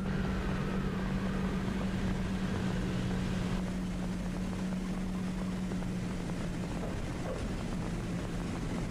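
Droning propeller engines of a B-24 bomber in flight, a steady loud hum with a strong low tone held throughout, shifting slightly partway through, with no talk.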